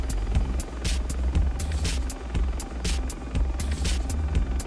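A helicopter in the FlightGear flight simulator game drones on with a steady, loud rotor throb and rhythmic blade pulses, close and continuous with no talk.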